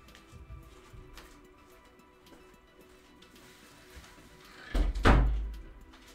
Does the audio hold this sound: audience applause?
no